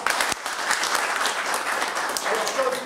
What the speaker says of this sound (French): Allez, très bien, on l'applaudit très fort.